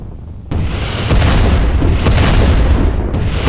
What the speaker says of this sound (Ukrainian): Бомба. Кидаємо сюди бомбу.